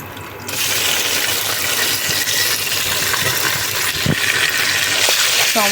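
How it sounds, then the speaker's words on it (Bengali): Tomato paste pours into a hot pan with bay leaves for a paneer pulao, giving a steady loud hiss and gush of sizzling that holds without break throughout. "আর এখানে আমি এখন টমেটোর পেস্টটা ঢেলে দেবো।"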